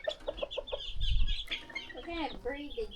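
Fighting roosters with unusual beaks clucking in a short run of close, rhythmic calls, mixed with thumps and low rumbling, with later bird calls and a faint voice nearby.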